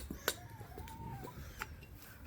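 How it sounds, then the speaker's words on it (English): Backyard chickens in a Melbourne garden cluck softly and faintly while eating blackberries, a few scattered low calls with brief sharp clicks and pecks, quiet and fairly distant. "I will demonstrate how my chickens love these blackberries."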